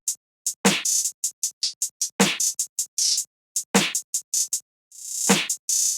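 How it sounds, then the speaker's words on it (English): A programmed clap pattern in a hip-hop beat, with punchy claps landing at regular intervals among quicker ticking percussion hits and a final swelling hit, dry and upfront. "So you just have this default clap pattern which sounds like this."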